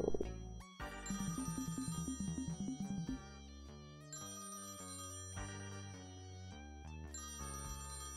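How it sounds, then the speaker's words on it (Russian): A phone rings in the video game The Textorcist amid game music, with a rapid chiming ring pattern up front before the tune carries on steadily at a moderate level. "надо, наверное, ответить на телефон."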